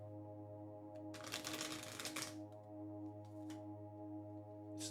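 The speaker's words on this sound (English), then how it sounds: "a full poker shuffle" A tarot card deck gets a full poker shuffle: one quick, crisp riffling burst lasting about a second, with a few light card taps afterward over a steady low electrical hum in a quiet room.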